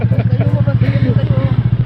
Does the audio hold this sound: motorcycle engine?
yes